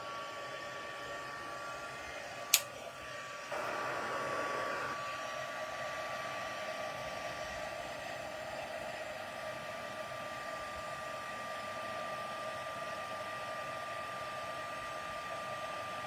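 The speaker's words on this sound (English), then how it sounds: "I will just grab my heat tool" A heat embossing tool blowing hot air, a steady whirring hiss after a click switches it on, running continuously and moderately quiet.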